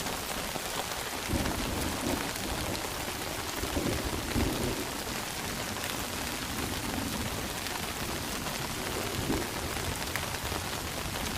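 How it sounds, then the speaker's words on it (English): Heavy, steady spring-storm rain pours down in the Irish Wilderness of southern Missouri while low rumbles of thunder roll through now and then, with no voices. "The actual lightning and thunder's probably been going on about 30 minutes."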